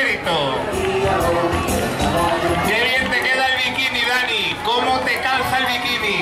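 A crowd at a float parade during the 2013 Fiestas del Santísimo Cristo de la Piedad in Guadamur, Spain, cheers and claps. The dense, steady hubbub stays close and loud throughout, with shouting voices and speech mixed into the noise.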